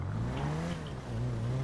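Engine drone of a car driven in GTA Online, a steady, fairly loud hum that shifts pitch as the car accelerates and eases off, with no talking over it.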